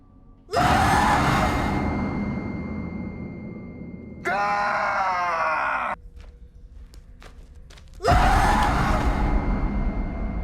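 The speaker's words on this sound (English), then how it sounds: "Now we can see that there's a scream, the monster scream" Monster scream from the TV series From: long shrieking, groaning cries in three bursts separated by a quieter stretch of rising wails and sharp clicks, loud and close.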